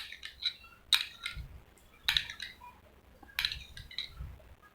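A spoon stirs skin bleach paste in a small bowl, giving sharp, bright clinks at irregular intervals with soft scraping and a low rumble between them, close by and with no talking.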